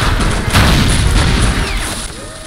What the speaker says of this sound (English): A machine gun just refuses to stop blasting.